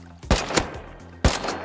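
Gunfire in the survival game Rust, with three sharp, loud shots fired in quick succession over a low background hum, and no voices.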